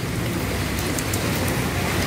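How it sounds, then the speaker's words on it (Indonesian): Heavy rain pouring during a severe flood in Makassar, a dense continuous roar of falling water, loud and unbroken throughout. "Makin parah, belum juga surut hujannya."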